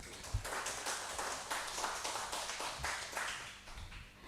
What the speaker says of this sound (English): Let's give one more big applause.